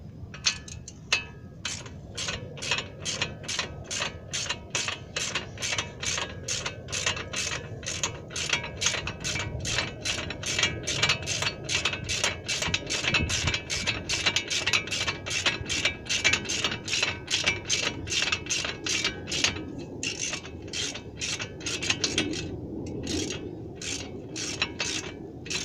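A socket ratchet clicks steadily and rapidly while tightening brake bracket bolts on a disc brake assembly, a long close run of even metallic clicks with only brief pauses near the end.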